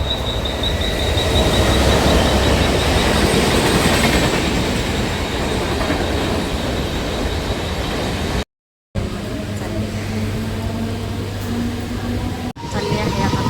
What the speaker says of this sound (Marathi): गेली एक ट्रेन बघा. चालली आता हे स्टेशनवर.